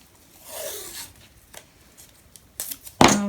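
Masking tape peeled from a roll and torn off for crafting a paper mini album, soft scattered tugs and crinkles building to a sharp, louder rip at the end, close and quiet with no talk.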